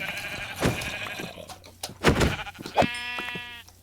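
Sheep bleating in a survival building video game, several clear bleats close by with quiet ambient noise between them.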